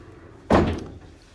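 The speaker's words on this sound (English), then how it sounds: "they have these closet doors with mirrors on them" A mirrored closet door in a country house shuts with a single loud thunk, and the sound fades quickly into a quiet room.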